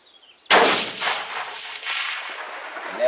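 One loud, sharp rifle shot fired through a vintage Weaver K6 scope cracks right up close, then a long rolling echo fades away over the next few seconds.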